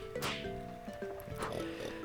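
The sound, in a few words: pig oinking in a video game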